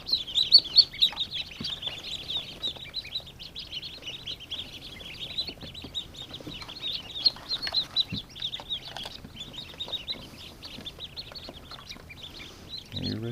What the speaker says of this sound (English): this tray has a ton of ducklings in it